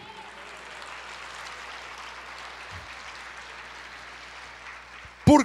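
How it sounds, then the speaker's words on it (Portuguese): A church congregation claps steadily in a dense, even wash of applause that fills the room, with a voice cutting in briefly at the very end. "aplauda ao Senhor"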